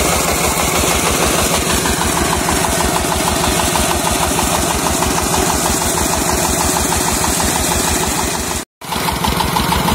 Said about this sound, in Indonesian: Untuk mesinnya sendiri ini, jadi menggunakan dompeng ini. Dompeng 16 pk.